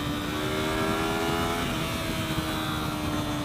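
A 2015 Yamaha R3 motorcycle engine held at a steady 9,000 RPM, a sustained, even high-pitched whine with a continuous rumble beneath, loud and unbroken throughout.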